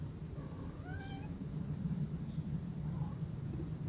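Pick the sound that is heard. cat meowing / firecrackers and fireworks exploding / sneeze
cat meowing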